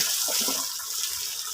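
Water gushes continuously from a hose with a bright, hissing spray, strong and close, with no talking.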